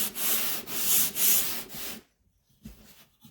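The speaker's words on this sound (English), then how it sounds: "let the sandpaper do the work" Coarse 60-grit sandpaper rubs back and forth across wood by hand in four close, loud, rasping strokes, followed by near silence with a few light handling taps.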